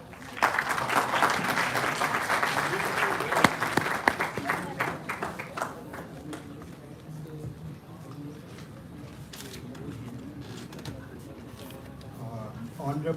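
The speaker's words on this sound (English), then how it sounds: "Huge round of applause." Applause from a conference audience at an HR conclave at an engineering institute in Ghaziabad, honoring a dignitary; dense clapping swells for about five seconds, then thins into scattered claps and room murmur with voices underneath.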